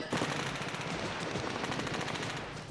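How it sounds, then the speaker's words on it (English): Rapid automatic gunfire from M16 and AK-47 rifles in a virtual reality Vietnam War simulation, a dense continuous rattle of overlapping shots at steady loudness throughout. "The sound of gunfire, M16s and AK-47s,"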